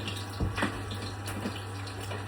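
Tap water running steadily as hands are washed under it in a kitchen after cracking an egg for fried rice, with a few splashy bursts over the constant flow and no talk.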